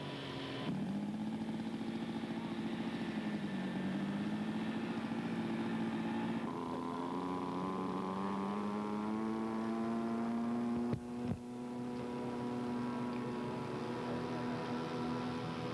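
A Super Tiger 3000 engine powers a P-47 scale model aircraft, giving a steady buzzing drone whose pitch rises and falls over time. It sounds moderately distant and runs unbroken apart from one brief clunk.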